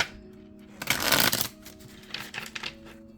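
Tarot cards riffle and shuffle with a crisp papery rush, a main burst followed by a few softer flicks and taps as the deck settles.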